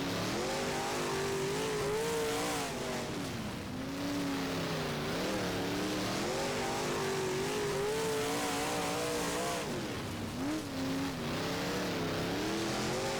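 Big Block Modified race cars in the rFactor racing game on a dirt track, engines roaring loud and steady with rising and falling revs and brief tire squeal, no talk.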